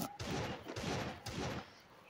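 Desert Eagle pistol fire in the mobile shooter Free Fire: several heavy, evenly spaced booming shots about half a second apart, loud and close, with no talking.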